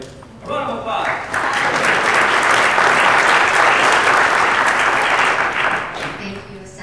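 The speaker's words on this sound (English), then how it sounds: "A round of applause." An audience at a 2011 Working Families policy summit panel breaks into sustained applause. The clapping swells quickly, holds dense and loud for several seconds, then tapers off near the end.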